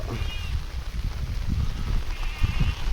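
Young lambs bleat repeatedly in thin, high cries over a steady, noisy outdoor background on a farm field after rain, several calls overlapping nearby.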